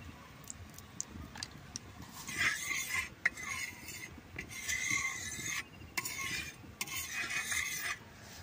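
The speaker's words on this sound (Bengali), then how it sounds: "পরোটাটা আটা দিয়ে ডলছি" Hands rub and pat a radish paratha dusted with flour, giving dry rasping swishes in uneven bursts with small taps between them, close up and with no talk.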